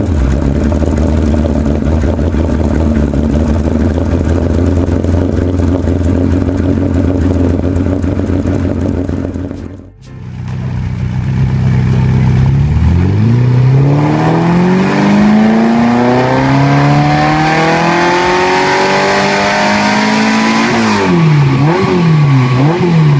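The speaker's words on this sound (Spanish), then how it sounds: "en cualquiera de sus versiones V8 de producción dejaba una nota brutal emitida por sus escapes" A TVR Cerbera V8 roars loud and close through its exhausts, a steady heavy drone that cuts out briefly, then returns with rising and falling revs climbing in pitch, ending in sharp repeated blips of the throttle.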